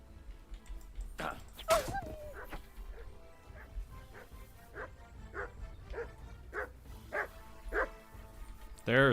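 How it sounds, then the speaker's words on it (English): A dog barks repeatedly in the medieval game Kingdom Come Deliverance 2, a run of evenly spaced, moderately distant woofs with a sharper yelp near the start and a louder bark at the end, no voices. "I hear a dog."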